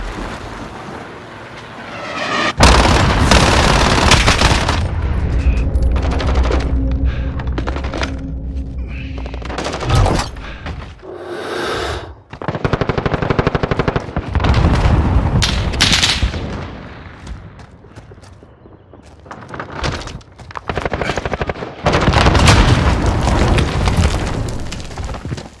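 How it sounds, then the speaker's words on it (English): Video game airstrike: heavy gunfire and repeated explosions, with loud booms and dense automatic fire in waves, broken by brief quieter gaps before more blasts and shooting. "Enemy precision airstrike. Take cover."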